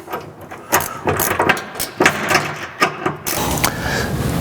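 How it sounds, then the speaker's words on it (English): A wrench tightens a carriage bolt on a bellypan skid plate under a Jeep JL with a HEMI 392, producing a series of close metallic clicks and ratcheting bursts with brief pauses between them. "we're going to go ahead and tighten this carriage bolt up here"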